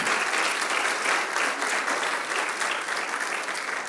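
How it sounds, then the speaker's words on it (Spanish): Church congregation giving a loud round of applause to the Lord during a sermon, thick continuous clapping from many people, steady and full throughout. "Dale un fuerte aplauso al Señor."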